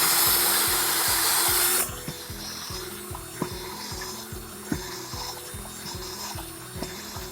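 A drill bit chases a hole through a snug wooden block on a fence post, starting with a loud bright whir, then settling into a repetitive grinding, rasping rhythm with occasional sharp knocks.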